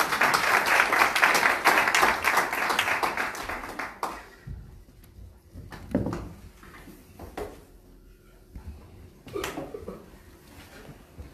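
A church congregation applauds in a dense, steady burst of clapping that stops abruptly after about four seconds, followed by quieter scattered knocks and shuffling.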